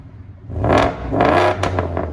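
Ford F-150 with a 5.0L Coyote V8 and 9-inch Dynomax race bullet exhaust, loud and close, giving two or three rising revs with a harsh, rumbling burble between them and no talk.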